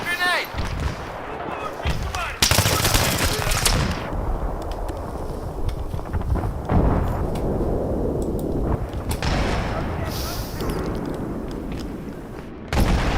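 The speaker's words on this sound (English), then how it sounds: "Okay, I'm throwing a grenade." A grenade explodes in the video game Take Us North, a heavy broadband boom followed by a long stretch of rumbling, crackling blasts and gunfire-like bursts that keep going at a loud, steady level.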